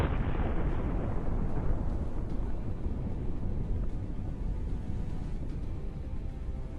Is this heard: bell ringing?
no